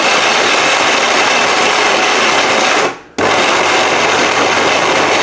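A Vision Heavy-Duty 850W blender roars loudly and continuously while mincing meat, cuts out briefly for a moment, then starts again at full power.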